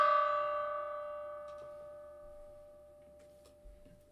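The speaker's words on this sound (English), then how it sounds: "Let's do a gong here for that." One struck gong, hit to celebrate a trading card pull during a card break, rings out with a long tonal decay that fades steadily over several seconds, with no speech.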